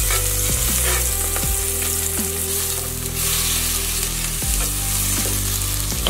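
Onion frying in butter in a pot for corn esquites makes a loud, continuous sizzle with a low tonal hum running steadily underneath.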